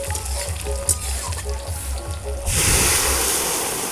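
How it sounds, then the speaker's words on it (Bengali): Dal simmering and frying with spices in a large pot for a big festive meal, a steady close bubbling sizzle that swells louder and brighter toward the end, with no talking. "মশলা অ্যাড করে ডালটাকে করে নিচ্ছে।"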